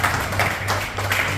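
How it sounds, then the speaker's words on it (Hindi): Audience clapping to welcome trainees at a civil defence evacuation drill for residents, a short steady patter of many hands, fairly close and loud. "जोरदार तालियों से स्वागत करें।"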